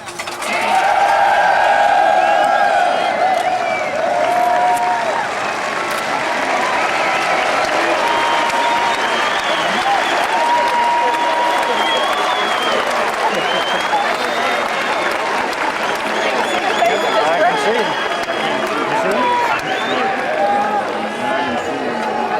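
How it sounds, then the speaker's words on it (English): A graduating class at the West Point graduation ceremony stands and applauds its supporters, a loud, dense, sustained roar of clapping from a large crowd with faint cheering mixed in, steady throughout. "Let me give this class an opportunity to acknowledge the contributions of this dedicated team of supporters by standing and applauding them."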